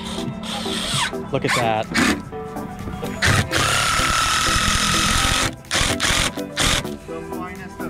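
A power driver fastens deck boards onto a wooden trail roller on a sunny day at a park trail build. It gives short, repeated whirring bursts close by, with people talking in between.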